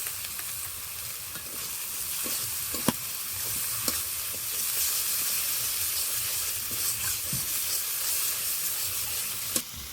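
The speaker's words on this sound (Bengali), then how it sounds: "এবার দিয়ে দেবো টক দই" Sour yogurt goes into sizzling spices in a pan while making an egg and spinach curry, bringing a steady hiss of frying with stirring and a few sharp clicks of the spoon against the pan throughout.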